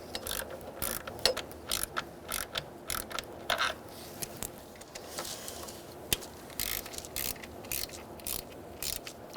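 A ratchet tightens the intake manifold bolts on a 2000-2007 Ford Taurus 3.0L V6, giving close, steady runs of rapid pawl clicks in short bursts with brief pauses between strokes and no talking.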